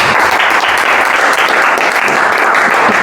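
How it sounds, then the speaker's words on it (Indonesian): Students in a music classroom clap for a classmate, producing loud, close, continuous applause that holds steady throughout. "Ingin menawarkan, tepuk tangan dulu untuk temannya."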